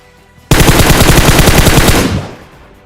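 Loud automatic gunfire from a video game shootout rattles off as one sustained rapid burst of about a second and a half, then cuts off and trails away, with no voices over it.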